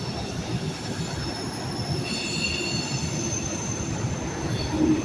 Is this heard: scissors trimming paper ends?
no